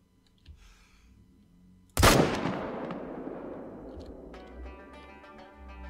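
A single loud rifle shot during a mule deer hunt cracks sharply after a quiet stretch, then rolls away in a long fading echo over the landscape.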